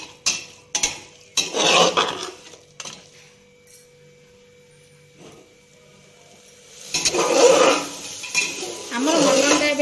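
Metal spoon stirring and scraping mutton curry in a pot, with clinking strokes in bursts, a quiet pause, then vigorous stirring with sizzling, close and clear.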